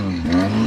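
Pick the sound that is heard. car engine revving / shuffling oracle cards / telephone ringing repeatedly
car engine revving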